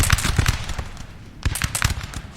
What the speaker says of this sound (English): Some decent volleys there